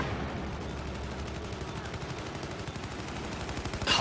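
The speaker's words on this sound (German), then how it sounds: "Und die Schuss sind geil." Rapid automatic gunfire in the multiplayer shooter Battlefield 4 rattles on continuously in dense, loud bursts with no pauses, heard alone without talk.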